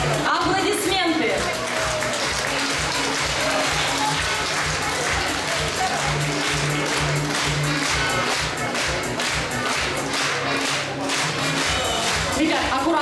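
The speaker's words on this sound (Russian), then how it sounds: "Аплодисменты." Crowd applause at a school awards ceremony, sustained loud clapping from many hands with some cheering, mixed with speech and continuing throughout.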